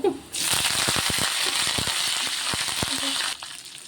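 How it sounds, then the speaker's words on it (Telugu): Dried red chillies and curry leaves sizzle and crackle in hot oil for a tempering, a dense steady frying hiss close by with sharp irregular pops and spits throughout. "ఇప్పుడైతే ఈ పోపు అయితే ఫ్రై అవుతుంది"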